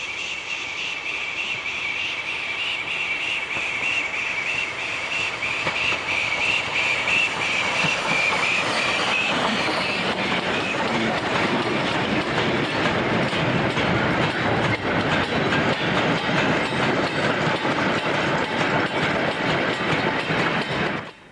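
Steam locomotive Dumbleton Hall hauling a demonstration freight train at a heritage railway gala, loud continuous chuffing and rolling wagons with a hissing tone early on, growing rougher and fuller as it passes close by.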